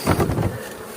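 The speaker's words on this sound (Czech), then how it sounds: "Tohle jsou včely z oddělku" Honey bees buzzing at a jumbo-frame nucleus hive, a dense close swarm drone that is loudest in the first half and then thins to a steadier low hum.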